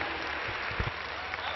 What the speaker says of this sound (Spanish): Señoras y señores, un aplauso para los dos.